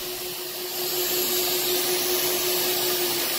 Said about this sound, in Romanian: Aspiratorul pe care noi îl folosim este un aspirator cu injecție extracție, care extrage toată mizeria din materialul aspirat.